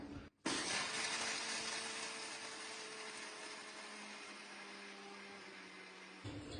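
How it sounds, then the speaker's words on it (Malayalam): A mixer grinder whirs loudly and steadily grinding dry fruits and dates for several seconds after a brief click, its motor hum constant and close, stopping abruptly near the end. "മിക്സിയുടെ ജാറിലേക്കെല്ലാം ഇട്ടിട്ട് നമുക്കൊന്ന് പൊടിച്ചെടുക്കാം"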